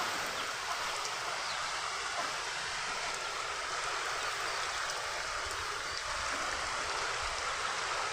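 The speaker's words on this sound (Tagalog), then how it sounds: "Medyo malakas yung ulan." Steady, dense rain hiss at a bahay kubo (nipa hut) in the afternoon, with no breaks, broadband and fairly loud throughout, like a heavy downpour or rushing water nearby.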